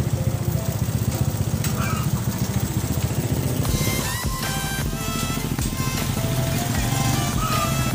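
Many motorcycles of a riders club at a monthly gathering idle and rev nearby, a loud layered engine rumble with rising revs midway, and some talk underneath.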